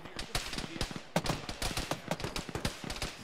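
Rapid gunfire rattles through an Arma military-simulation firefight, with dense overlapping shots, bursts and single cracks at varying distances, continuous and fairly loud.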